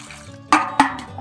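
Water sloshes while brinjals are washed in a vessel in a home kitchen, with two distinct splashy bursts close to the microphone over a quiet background.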